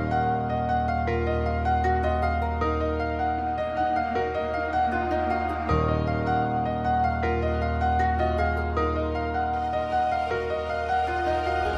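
A finished dark beat sample made in FL Studio, sustained piano and guitar layered with arcade-style melodic lines, dense and continuous at steady loudness with no voices.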